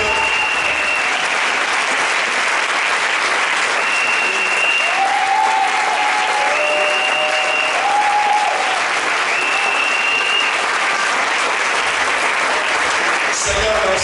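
A church congregation at a Sunday worship service claps together in sustained, dense applause that holds steady throughout. Faint sustained tones ride above the clapping, and it ends abruptly.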